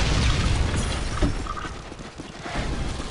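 Grenade explosions in the Call of Duty Online shooter, a loud broadband rumble with a heavy low-end boom fading then swelling again over about three seconds, game noise without clear speech.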